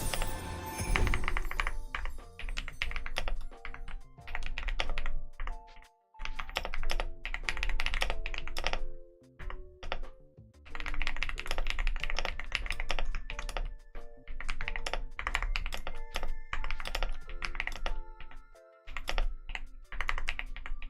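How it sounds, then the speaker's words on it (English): A computer keyboard is shifted and handled on a desk. Dense clacking, tapping and thunking runs for about twenty seconds with only brief pauses, close and fairly loud. "I'm gonna move my keyboard"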